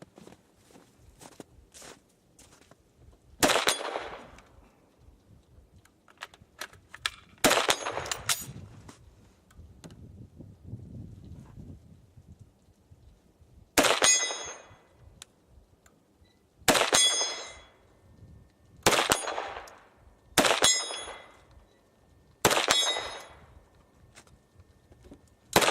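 SKS rifles, wooden-stocked versions, fire at a Plink Star high-calibre steel target system. Sharp shots ring out at irregular intervals, about eight in all, each one followed by a ringing clang of steel plate that fades away. Between the shots there is quiet with no talk.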